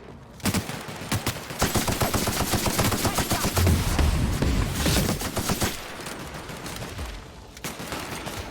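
Gunfire in The Outer Worlds, a dense, loud barrage of rapid shots and bursts crackling continuously across the whole stretch, with sharper individual cracks standing out.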